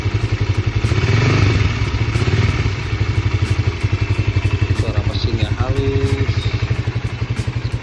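A Honda CBR 150 motorcycle idles close by with a steady, even rapid thumping pulse and light mechanical clatter, while someone speaks briefly over it.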